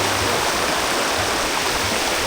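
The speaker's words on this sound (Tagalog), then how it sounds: "Ito na yung ilog." A river flowing beside a campsite, a steady close rush of water that fills the clip evenly with no pauses or voices.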